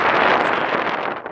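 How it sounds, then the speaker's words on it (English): Gusty outdoor wind buffets the microphone in a short, loud rush before a storm, steady and close with no voices. "It's a little windy outside."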